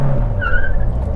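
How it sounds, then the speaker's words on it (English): Brief burst of a Chevrolet Cruze engine revved hard in first gear with wheel spin, a strained rising tone with a short tire squeal on top, close and loud. "First gear, revving the motor."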